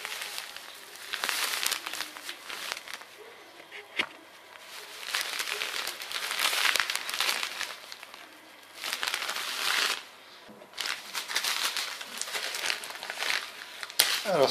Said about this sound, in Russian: Итак, берем пакетик с солью.